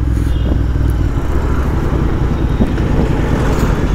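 A Royal Enfield Interceptor 650 motorcycle's engine runs in a steady, loud, close-up rumble with a dense low throb, sounding alone with no voices for the whole stretch.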